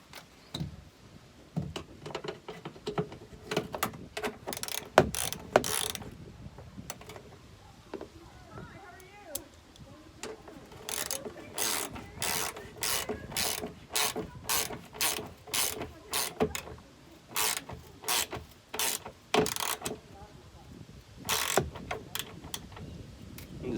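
A ratchet clicks in repeated bursts while a plastic mudflap fastener is tightened on a Ford F350 dually truck, the close, crisp pawl clicks coming in quick runs separated by pauses.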